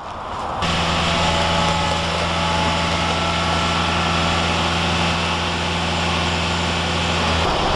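A vehicle engine runs steadily with a constant droning hum while the vehicle is pulled forward during a flat change on a dual-axle trailer, starting abruptly and holding even and fairly loud throughout, with no talk.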